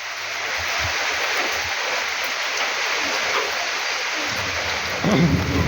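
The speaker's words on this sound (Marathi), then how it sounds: "बघायला पाऊस चालू झालो" Steady rain pours down in a constant wash of noise, with faint low rumbles and a bit of clatter near the end.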